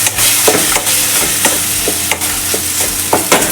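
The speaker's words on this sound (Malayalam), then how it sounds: "പച്ചമണം പോകുന്നിടം വരെ ഒന്ന് ജസ്റ്റ് ഒന്ന് ഇളക്കിയിട്ട് കൊടുക്കാം." Ground paste being stirred with okra, ginger and green chilli in a hot pan for okra pachadi: a loud close sizzle with repeated rhythmic spoon scrapes and clacks, no voices.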